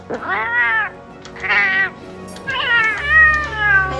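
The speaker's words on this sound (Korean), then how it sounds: "고양이 목소 아주 중요해요." A cartoonish cat in the video game Monster Hunter: World meows three or four times in a row, clear and close, with a low hum coming in near the end.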